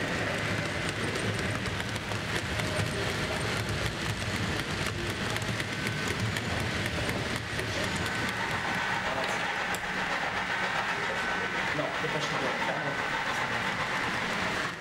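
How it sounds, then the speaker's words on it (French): An HO-scale model train runs on a private layout with a continuous rolling rumble and faint rail clatter, steady and moderately close the whole time, with no talking. "Jean-Claude qui a aussi fait circuler ce jour-là une rame constituée pour le tournage d'un film"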